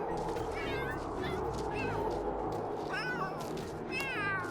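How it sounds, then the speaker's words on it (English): Cat meowing repeatedly in The Sims 3, several drawn-out rising meows over a steady background of game ambience, close and clear. "Oh, there's another cat over here."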